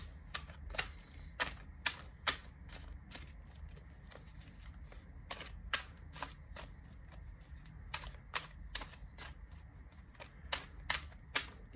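Quick bursts of riffling tarot cards repeat in irregular clusters over a low steady hum, each shuffle a crisp papery flutter; nobody speaks.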